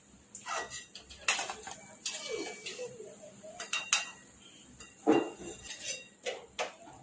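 Fried spiced corn from leftover roti lifted out onto a plate, clinks and scrapes of a metal utensil against pan and plate in scattered taps, fairly faint with quiet talk between them.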